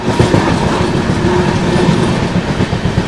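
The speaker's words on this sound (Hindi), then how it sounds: "ये जो आप सामने जो ट्रेन देख रहे हो, ये इंडियन रेलवेज की हाईएस्ट रेवेन्यू जनरेट करने वाली राजधानी एक्सप्रेस है" The Rajdhani Express passenger train on Indian Railways track gives a loud, continuous rumble with a steady clickety-clack of wheels over rail joints, heard close by.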